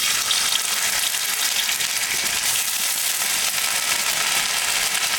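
Dried chilli and ginger paste frying in hot mustard oil, giving a loud, continuous crackling sizzle that holds steady with no talk over it.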